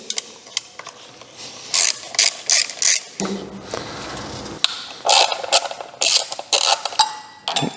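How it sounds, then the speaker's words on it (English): Ratchet wrench undoing engine cover bolts on a Mazda MX5 during cylinder head removal, rapid close clicking in repeated bursts separated by short pauses and a brief lower rumble. "hold it, and undo the bolts"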